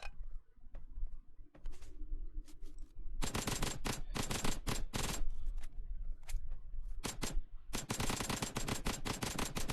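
Bursts of automatic gunfire from the PUBG Mobile video game, with rapid volleys of shots in several long runs separated by brief pauses, loud and close with no talk over them.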